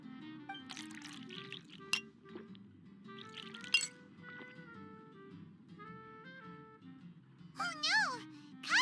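A glass of juice in Genshin Impact gives a couple of brief, sharp glass clinks among talking voices and light background tones.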